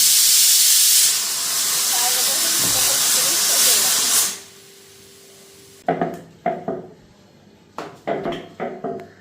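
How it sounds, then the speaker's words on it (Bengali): A pressure cooker cooking potatoes lets out a loud, steady steam whistle and hiss for about four seconds before cutting off, followed by a few sharp knocks and clatters nearby. "এদিকে প্রেসার কুকারে আলু সিটি দিতেছি"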